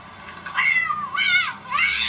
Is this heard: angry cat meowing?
yes